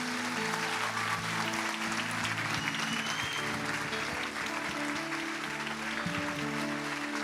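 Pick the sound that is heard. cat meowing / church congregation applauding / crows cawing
church congregation applauding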